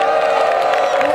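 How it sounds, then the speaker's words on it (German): Crowd at an outdoor group photo event in Lünen cheering and applauding, a steady dense wash of voices and whoops with claps mixed in, loud and continuous. "Einen riesen Applaus für Bernd!"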